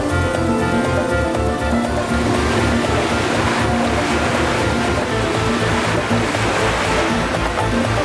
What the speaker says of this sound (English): Hull models are tested in water. The WaveMaker simulates conditions predicted by the weather model.